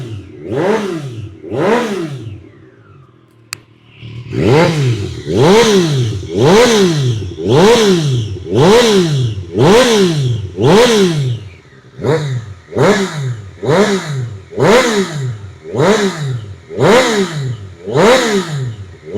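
A superbike fitted with an aftermarket header and SC1R exhaust revs hard in repeated loud blips, each rising and falling sharply in a steady rhythm close by, with a brief pause after the first two.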